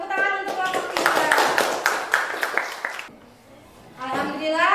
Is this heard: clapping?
yes